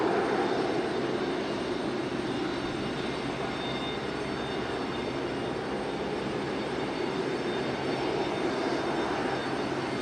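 A jet airliner roars steadily and loudly nearby at Raleigh-Durham International Airport, a continuous broadband engine rush on a windy day with no talk over it.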